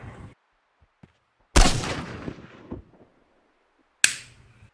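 Gunfire in the survival shooter Miscreated: two loud, sharp shots about two and a half seconds apart, each cracking abruptly and trailing off, with quiet game ambience between them.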